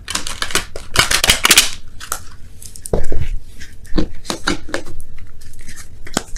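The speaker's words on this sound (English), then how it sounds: "I want to shuffle it a little bit differently this time." Tarot cards shuffled by hand in rapid papery riffles and taps, a dense burst early on followed by scattered softer flicks and slaps, close and clear with no talk.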